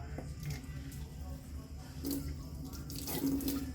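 Water splashes and runs into a pot nearby, rising in loudness toward the end, with a voice speaking briefly over it.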